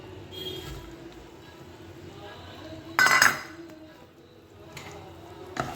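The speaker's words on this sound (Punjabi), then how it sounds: "ਪਾਉਣੇ ਹੁਣ ਅਸੀਂ ਆਲੂ" Boiled potatoes go into a bowl in a home kitchen, with light utensil clinks and one sharp clatter in the middle. Otherwise the scene stays fairly quiet and close.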